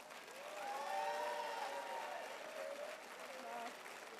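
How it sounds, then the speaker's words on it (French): An audience at a gala show applauds the performers, a moderately distant sustained clapping with a few faint cheers and voices mixed in. "Plus fort, s'il vous plaît."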